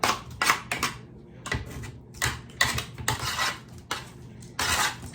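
Roasted Brussels sprouts tossed in a metal pan, giving repeated bursts of scraping, rattling clatter in an uneven rhythm, close and fairly loud with short pauses between tosses.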